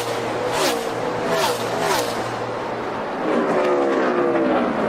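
A NASCAR Cup Series car at Phoenix races down the backstretch on the final lap, its engine roaring steadily at full throttle with rising passing whines over crowd noise, loud and continuous throughout.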